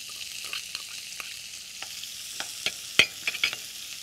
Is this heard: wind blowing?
no